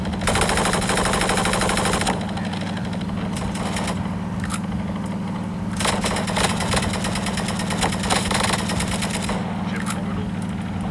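Continuous heavy gunfire in a competitive tactical shooter game as players fire blindly into smoke, dense and loud throughout with a low droning hum underneath.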